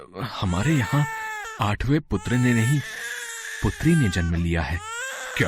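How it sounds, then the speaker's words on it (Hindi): An infant cries in repeated wailing bursts, from the newborn daughter born in the prison cell in the Krishna birth story, under loud narration and dialogue that carry over much of the clip. "अरे, ये तो बच्चे के रोने की आवाज है।"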